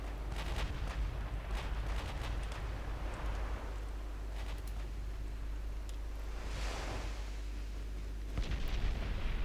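Warship guns boom in the naval game Ultimate Admiral Dreadnoughts, several distant, muffled blasts rolling out over a low rumbling sea-like background, with a heavier salvo near the end.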